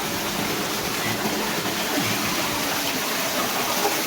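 Water flows from a farm drip irrigation pipe as a steady, close rushing hiss that stays even and unbroken throughout.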